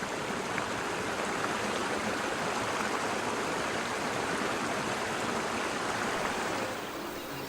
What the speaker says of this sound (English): Water flows slowly through the Mayas towards larger brooks and rivers in more low-lying lands